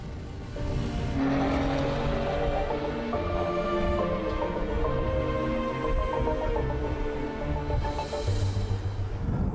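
Porsche Cayenne-style e-Hybrid with a 2.9-litre V6 under the front hood, producing a steady, loud engine drone with a sustained mid-pitched note and a rising rev swell near the end, no voices.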